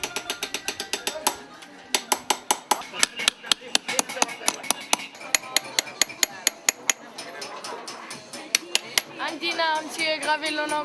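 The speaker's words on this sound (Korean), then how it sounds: "걷다 보면 조그만 망치로 금속판을 두드리는 소리가 끊임없이 들려온다" In the Tunis medina a craftsman taps a small hammer on metal plates, ringing out a fast run of bright metallic clinks. A voice talks over the tapping, and near the end the tapping thins out under louder background sounds.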